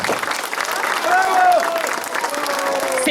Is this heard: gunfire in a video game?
no